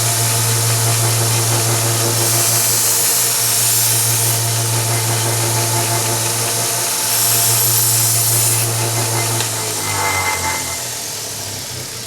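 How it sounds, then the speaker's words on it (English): A belt sander grinds a knife edge in a steady, loud drone with a strong low motor hum, the pitch sagging near the end as it spins down. "I'm going to give it one pass on each side again on the belt"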